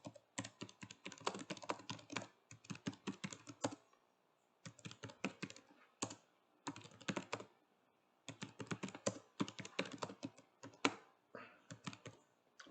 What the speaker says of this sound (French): je vais taper livre zombie.